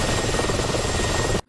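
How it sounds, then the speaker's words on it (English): Mi-24 attack helicopter in a naval battle video game, its loud, steady rotor and engine roar filling the moment before cutting off abruptly near the end. "We've got Sock in his trusty Mi-24."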